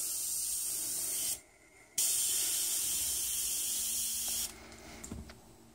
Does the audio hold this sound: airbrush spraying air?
yes